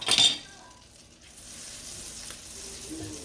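Butter sizzling in a pan for a roux, a brief clink at the start and then a steady soft frying hiss close by.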